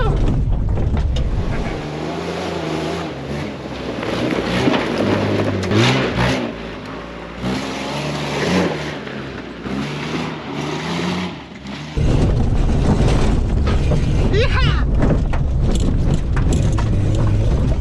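A 1992 Nissan Pathfinder with re-indexed torsion bars and a budget suspension lift drives fast in high-speed testing. Engine roar and road rumble stay loud and close, with rattles and jolts throughout and a harsher surge near the end.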